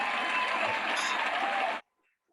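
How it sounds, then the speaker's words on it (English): A crowd applauds in a dense, steady wash of clapping that stops suddenly, leaving near silence. "Give this man more round of applause for proceedings."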